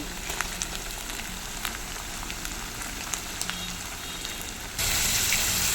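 Washed dal (lentils) dropped into a hot pan with ginger-garlic paste and stirred: a steady close sizzle with scattered crackles, growing louder and harsher near the end.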